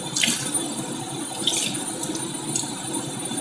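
Water squeezed by hand from a wet felted ruffle scarf, a steady trickling splash with a few brighter drips and squirts, close and fairly quiet with no voices.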